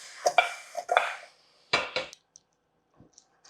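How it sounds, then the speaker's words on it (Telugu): Mutton bones, about a kilogram, are tipped into a metal cooking pot, making a few sharp clattering knocks and scrapes in close succession, then a pause and a couple of faint taps. "ఇదిగోండి బోన్స్ అన్నీ వేసేస్తున్నా."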